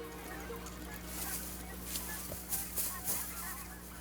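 Canada geese and white-fronted geese calling during an early-season waterfowl hunt in Saskatchewan, a few faint distant honks in open air over steady low background noise.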